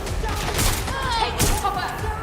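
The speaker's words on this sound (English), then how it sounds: "Suspect is shooting!" A suspect fires a gun in Watch Dogs: Legion, with several muffled shots and thuds mixed into a busy game scene while a voice shouts over them.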